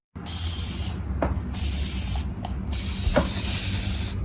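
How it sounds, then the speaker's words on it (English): A handheld spray bottle mists water into a bowl in a kitchen, three hissing bursts of spray separated by short gaps, with small clicks of the trigger between them. "And spray water in the bowl."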